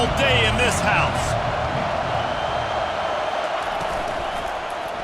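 A stadium crowd roars steadily in EA Sports College Football 25, a broad sustained wash of noise at a college football game, with a commentator talking over it.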